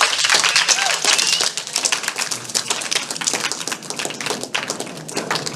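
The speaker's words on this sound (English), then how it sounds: "Can we give them a round of applause?" Audience applause for the readers after a stage reading at a festival, dense clapping that starts loud and then thins out somewhat while carrying on steadily through the clip.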